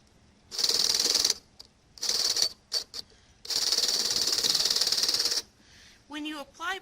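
A small electric motor turns a leadscrew stage, driving two nuts along the screw in a high mechanical whir that starts and stops in several bursts, one long run in the middle, with a brief voice near the end.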